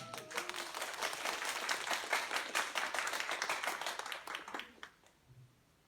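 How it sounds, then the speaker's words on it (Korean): An audience at a diabetes health lecture in Incheon claps together for several seconds, a dense burst of hand claps that thins and stops abruptly near the end. "박수 한번 쳐주시면."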